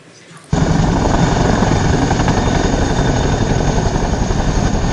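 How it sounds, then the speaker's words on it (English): A Boeing CH-47 Chinook tandem-rotor helicopter cuts in abruptly after a quiet moment, then roars loud and close with a continuous, dense rotor and engine drone. "Which helicopter is it? Sir, Boeing CH-47 Chinook."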